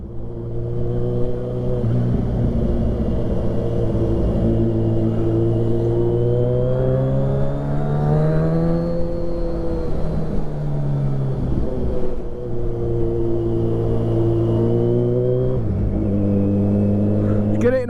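Kawasaki Ninja 1000 SX motorcycle fitted with a very loud Black Widow aftermarket exhaust, a close, loud steady drone that climbs and falls through several gear pulls, with a brief dip and a swell near the end.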